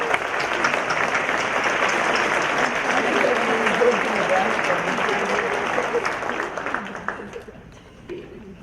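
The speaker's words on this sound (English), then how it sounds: "Please help me give a round of applause to all of our world language winners." An audience at a high school honors night applauds the world language award winners, steady clapping that fills most of the stretch before thinning out and fading near the end, with a few voices underneath.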